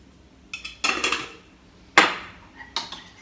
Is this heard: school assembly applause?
no